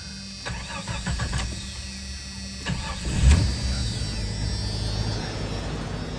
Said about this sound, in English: let's turn on the motor.